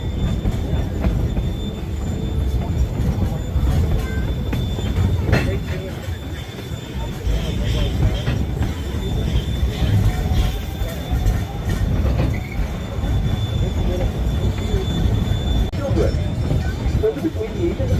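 Georgetown Loop railway train rolling along its tracks near Silver Plume, heard from aboard as a steady low rumble with faint wheel clatter and occasional squeal, with people talking over it.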